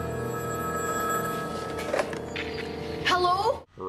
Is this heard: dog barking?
no